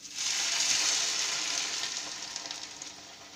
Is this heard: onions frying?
yes